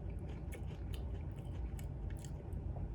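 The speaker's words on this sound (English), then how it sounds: "let's find out where we are with the dry crunch on these puffs" Chewing on dry, crunchy chocolate puffs that have gone partly soft, with close, quiet crunching and squishing bites in a steady rhythm and no talk.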